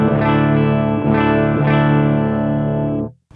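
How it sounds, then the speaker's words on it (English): An electric guitar played through a speaker cabinet impulse response with the amp off gives sustained, buzzy chords that are restruck three times, loud and close, before cutting off abruptly near the end. "just what you're gonna hear now is just the impulse response."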